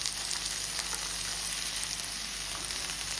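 Carrots and val papdi beans sautéing in a pan for veg pulav give a steady, close, even sizzle that runs unbroken throughout, with no talking.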